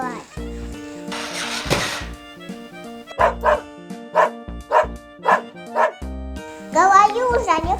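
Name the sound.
dog barking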